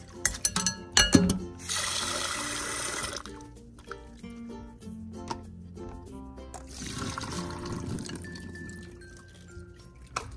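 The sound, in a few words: rinsing shrimp paste (bagoong alamang) with water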